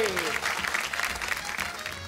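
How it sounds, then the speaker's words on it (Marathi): Studio audience applause on a Marathi TV game show, a dense burst of clapping that carries steadily for about two seconds with a voice speaking briefly over its start. "एकदा जोरदार टाळ्या होऊन जाऊ दे."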